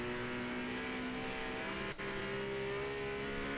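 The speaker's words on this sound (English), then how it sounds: "There we go, I can hear the engine now." A GT race car engine in Project Motor Racing drones steadily at high revs on a road course. It stays loud and continuous, with a brief dip as the car shifts, and no talk.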